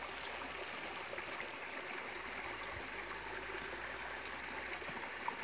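Clean water in a small farm lake flows with a steady, soft trickling and gurgling wash, continuous and fairly faint, with no one speaking.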